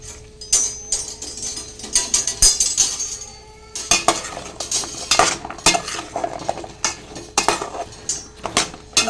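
Okra fries in oil in a pan while a utensil stirs and scrapes against the metal, producing repeated clinks and clatters over a faint sizzle, close and fairly loud.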